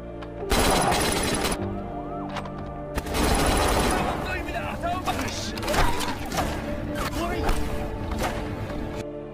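A film shootout in a Korean heist story crackles with rapid bursts of gunfire, dense volleys and scattered single shots. A narrator's voice talks over the loud, close firing throughout.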